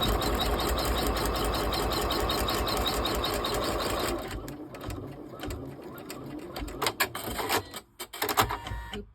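An embroidery machine stitches a step on a split-front, fully lined zipper purse, a loud, steady rapid needle chatter that stops about halfway, followed by scattered clicks and handling noises.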